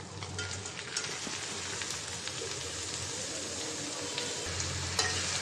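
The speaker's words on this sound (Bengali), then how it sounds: "করলা আর আলু দিয়ে দিলাম।" Bitter gourd and potato fry in a pan with turmeric, salt and ground coriander, giving a steady close sizzle with scraping stir sounds and small clinks throughout, no talking.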